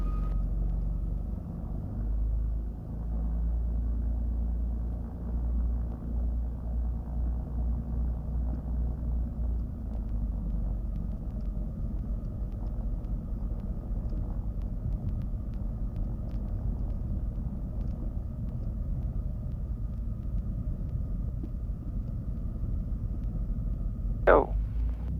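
Twin engines of a Cessna 310 departing a runway drone as a steady low rumble heard from inside the cabin, continuous and unchanging throughout.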